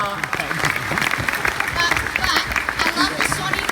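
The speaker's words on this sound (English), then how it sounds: "A round of applause." Fan festival audience in Sydney clapping in a round of applause, steady and fairly loud, with a voice talking over the clapping throughout.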